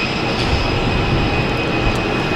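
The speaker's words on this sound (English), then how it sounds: "Next to arrive, we have a JetBlue coming in from Austin." JetBlue airliner arriving at Boston Logan Airport, a loud, steady low jet engine roar with broadband rushing noise, close and continuous without voices.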